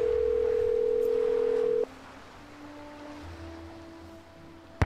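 Telephone dial tone in the game Nancy Drew: Danger on Deception Island, a loud steady tone that cuts off abruptly, followed by quieter faint ringing tones and a click at the end.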